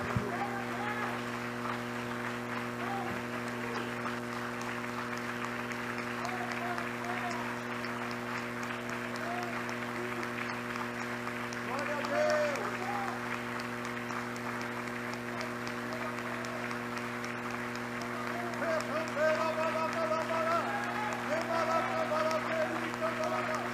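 A church congregation claps together, a steady patter of applause over a constant low electrical hum, with voices calling out and talking faintly at times throughout.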